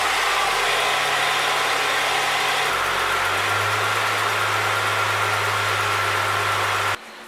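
A New Edge Ford Mustang, just reassembled after exhaust repair work, fires up and settles into a steady, loud idle, its low engine drone and rumble filling the whole clip before an abrupt drop in level near the end.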